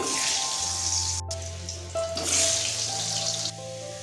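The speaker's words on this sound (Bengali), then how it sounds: "আলুগুলো আমরা লাল লাল করে ভেজে তুলে নেবো" Large potato chunks fry in hot oil in a wok, giving a steady, close sizzle and crackle that runs throughout with no talking.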